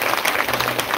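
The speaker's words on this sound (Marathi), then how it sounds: "एकदा टाळी वाजली." An audience claps together at a devotional talk, a dense, steady burst of applause lasting about a second with no voices over it.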